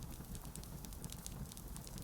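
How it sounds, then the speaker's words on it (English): A hearth fire in the corner of a cozy tea shop crackles softly and steadily, with faint scattered pops over a low, continuous background hiss, heard alone without voices. "the air hums with the gentle crackling of a hearth burning in the corner"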